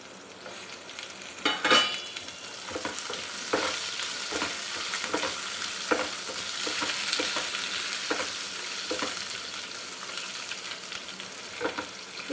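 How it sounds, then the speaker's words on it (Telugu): Chopped onion and ginger frying with coriander seeds and cumin in a pan, a steady sizzle with repeated stirring scrapes, close and without voices. "ఇవన్నీ కొంచెం ఉల్లిపాయ మెత్తబడదాకా వేయించుకోవాలి"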